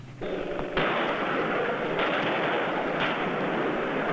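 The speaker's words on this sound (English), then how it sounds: "Long-range Israeli artillery, sending shell after shell into southern Lebanon." Long-range Israeli artillery shelling southern Lebanon, heard through a 1980 television news broadcast as a sudden sharp boom followed by several more blasts over a sustained loud rumbling roar.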